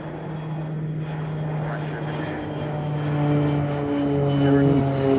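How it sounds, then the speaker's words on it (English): A passenger jet with a blue nose passes near an airport with its landing gear lowered, its steady engine roar droning loud and continuous, swelling slightly toward the end with a sustained low hum. "there's that plane with the blue nose again"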